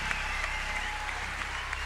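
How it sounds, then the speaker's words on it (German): A crowd applauding continuously, dense steady clapping at a moderate distance throughout. "Round of applause for the Swedish lady."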